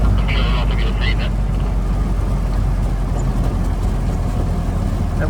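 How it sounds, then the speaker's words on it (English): A Jeep on a tour around the Oosterbeek perimeter, its engine and tyres giving a steady, loud rumble with wind-like road noise throughout, faint voices briefly audible at the start. "we're there now driving round the perimeter on our Jeep tour"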